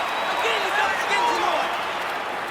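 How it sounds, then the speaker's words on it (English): Adelaide Crows fans applaud in the stands at an Australian football match against St Kilda, a steady wash of crowd clapping and cheering that is heard under a commentator's ongoing talk. "Crows fans stand to applaud."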